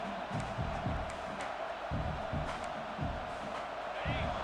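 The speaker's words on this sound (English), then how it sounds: "This crowd trying to make life miserable for this offense." A stadium crowd roars in the video game EA Sports College Football 26, loud rhythmic pulses of yelling and chanting that swell and fall repeatedly without pause.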